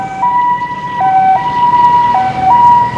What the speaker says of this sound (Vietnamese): thì giờ xe cấp cứu đã tới rồi